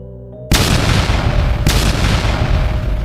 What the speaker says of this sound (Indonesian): Setiap pukulannya diiringi dentuman dahsyat yang mengguncang langit.